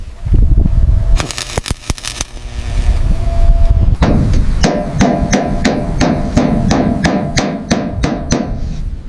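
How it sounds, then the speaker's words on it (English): Hammer taps straightening a metal panel on a 1970 Dodge Charger R/T: sharp, loud metallic strikes, a few irregular hits at first, then a steady rhythmic series of about a dozen taps with a ringing tone. "Straightening metal with careful taps."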